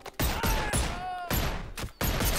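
Several loud bursts of gunfire from the Boneworks VR game crack out in quick, uneven succession, close and sharp, with short ringing tails and brief gaps between shots.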